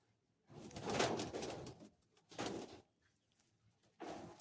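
Flying pigeons in a loft coo nearby in three separate soft bursts, the first longest, with quiet gaps between them.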